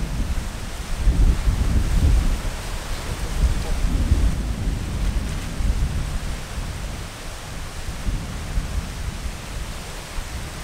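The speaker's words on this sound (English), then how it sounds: "Wow, it's windy." Strong wind gusts outdoors at a southern bird-watching spot with herons in the trees, buffeting the microphone as a heavy, continuous low roar that swells and eases.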